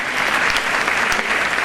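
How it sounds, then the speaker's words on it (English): Dense, steady applause from a crowd at a varsity sports awards ceremony, continuous and evenly loud throughout with no talk over it. "To our underclass, you can clap again."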